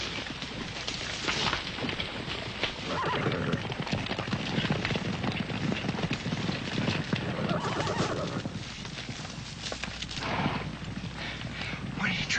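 A horse neighs and its hooves clip-clop through a steady rough wash that could be rain, the noise continuous and fairly close with no clear speech.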